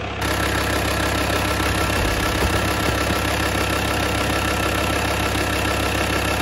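A VW T5 camper van engine runs steadily at idle after an oil leak repair, a loud continuous rumble with a faint knocking texture throughout and no talk.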